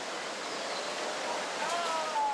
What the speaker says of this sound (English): Another series of waves.